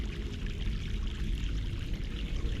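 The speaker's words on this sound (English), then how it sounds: "there's the water. Fresh mountain water." Fresh mountain water flowing in The Longest Journey, a steady rushing pour with a low churning rumble that stays constant and fairly close, with no voices.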